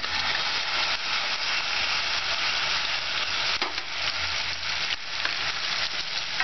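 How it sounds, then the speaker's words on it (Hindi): Onion paste for methi malai matar frying in a pan over nearly full heat, a dense continuous sizzle with occasional stirring scrapes. "इसको लगभग फुल आंच पे एक से दो मिनट तक भूनना है, ताकि इसका कच्चापन दूर हो जाए प्याज का"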